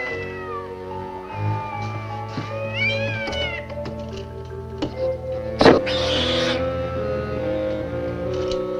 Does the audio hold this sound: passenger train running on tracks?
no